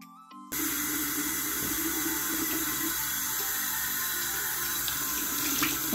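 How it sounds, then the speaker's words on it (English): Running tap water pours steadily into a sink as hands are washed during a nighttime skincare routine, a continuous close splash starting abruptly after a brief moment of quiet and lasting throughout. "let's wash our handsies"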